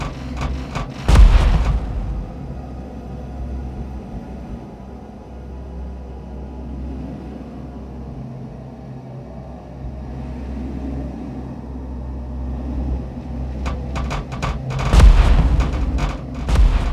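Fighter squadrons in the Dust Fleet video game shoot down the turrets of a raider ship. Heavy booms come at the start and again near the end, and a steady low engine-like rumble fills the space between them.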